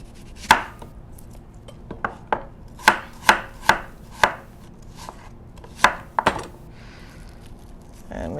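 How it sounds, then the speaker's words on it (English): A knife chops an onion on a cutting board, making about a dozen crisp, close thuds in uneven bursts, some in quick pairs, with quiet pauses between and no talking. "So we're just gonna cut this onion."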